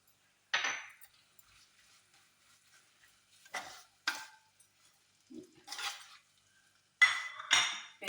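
Bilimbi pickle stirred in a pan, spaced clusters of spoon scrapes and metallic clinks separated by near-silent pauses, close and fairly quiet.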